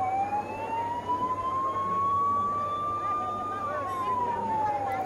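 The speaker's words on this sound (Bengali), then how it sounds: "এই যে এবার এই যে সাইরেন দেওয়া গাড়িটা এলো" A rising and falling electronic siren wails from a vehicle in a motorcade arriving for Modi at Ashokenagar, loud and steady over a continuous crowd murmur.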